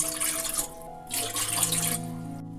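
Water pours into a kadai on the stove for rice-flour dough, a steady splashing stream with short breaks, close and fairly loud, no voices.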